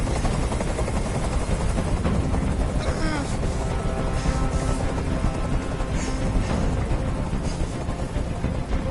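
Helicopter in the video game Detroit: Become Human, a loud, steady rotor and engine drone that fills the whole stretch, with voices faintly mixed in.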